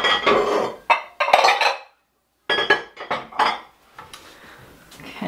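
A bowl is taken out in a home kitchen while jerky is being prepared, with loud close clatters and clinks of dishes in several bursts and a brief pause midway, then quieter rustling.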